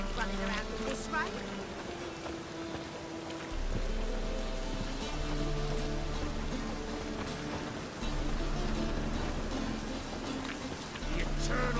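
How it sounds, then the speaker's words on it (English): Steady rainfall in the fantasy game Witcher 3, a constant wash of drops with howling wind and ambient game sounds layered over it, continuing throughout alongside scattered game voices. "Must be mad running around in this rain."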